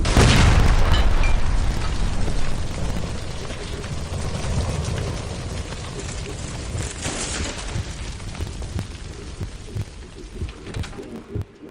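A gas line by a stove explodes in L.A. Noire, a loud, close blast at the start that rolls into a long, rumbling decay with scattered thuds.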